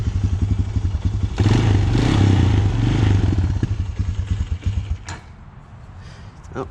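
A Honda TRX250EX ATV engine idles with a rapid, close thumping putter, revs briefly louder, then sputters and slows in uneven chugs before cutting out as it runs out of gas, leaving a faint clatter.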